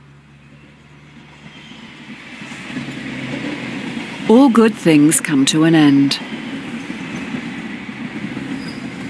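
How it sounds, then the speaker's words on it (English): A trolley barrels down a railway track in a video game, a steady rumbling rail sound that swells over several seconds, with a voice speaking briefly over it midway. "A trolley is barrelling down it in your direction."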